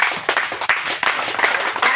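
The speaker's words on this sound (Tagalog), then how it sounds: "atong tagaan siya sa makusog nga palakpak" A church congregation applauds during Sunday worship, a dense, continuous wash of clapping filling the room, with a few louder bursts and no clear speech over it.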